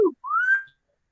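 A single short rising whistle at an open mic night, clear and close, preceded by a brief sliding note, then silence.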